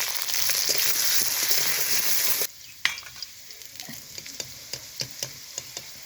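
Loud, steady sizzle of potatoes with turmeric and salt frying in white cooking oil in a pan that cuts off abruptly partway, followed by quieter scattered clicks and taps of a utensil against the pan.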